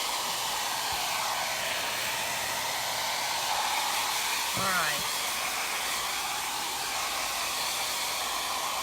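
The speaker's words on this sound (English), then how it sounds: "I know that's loud and you don't want to listen to a hairdryer." A hair dryer runs steadily with a loud, constant whooshing roar throughout, used to dry milk paint, and a person speaks briefly over it.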